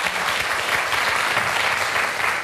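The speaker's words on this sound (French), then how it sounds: "Merci d'applaudir Claire et Karine." Studio audience on a French television consumer show applauds two guests arriving on set, a thick, sustained wash of clapping, loud and steady from start to finish.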